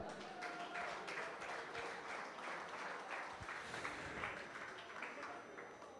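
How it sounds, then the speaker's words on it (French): A crowd at an awards ceremony applauds for the mayor of Sainte-Anne, a steady dense patter of many hands, fairly distant and even throughout. "que je vous demande d'applaudir bien fort"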